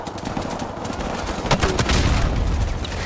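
Rapid gunfire in the PC game Call of Duty: Modern Warfare Remastered, a dense, continuous rattle of shots with sharper cracks mixed in, loud and close throughout.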